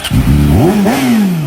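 A 660cc motorcycle engine revs hard and close, its growl climbing sharply in pitch before easing into a loud, slowly falling drone.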